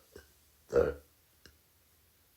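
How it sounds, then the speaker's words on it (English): A single loud burp from a man during a horror film review, a short low rumbling belch standing alone in a quiet room, with faint clicks before and after. "Apologies in advance for hiccups and burps everybody."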